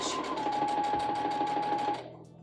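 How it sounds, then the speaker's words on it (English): A sewing machine runs a straight stitch in one continuous fast rhythmic whir with a steady hum, loud and close, then stops abruptly near the end. "I'm just going to simply sew a straight down. So straight, that's my straight stitch."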